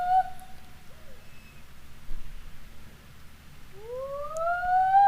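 A barred owl calls at night from a wooded campsite: a drawn-out falling hoot early on, then louder rising wails near the end, distinct over quiet low background rumble.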